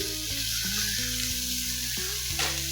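Tomatoes and fenugreek leaves sizzle steadily in a hot pan for a Punjabi-style pumpkin dish, a close, continuous frying hiss with faint tonal hum and occasional soft stirring.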